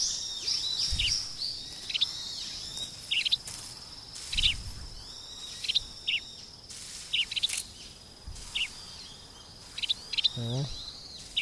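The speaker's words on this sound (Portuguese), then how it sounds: "E aqui ó, tem um passarinho aqui," Bird chirps from the video game Metal Gear Solid 3: Snake Eater, sounding as repeated short, bright calls in brief bursts over a faint ambient game background, with a few soft low thumps mixed in.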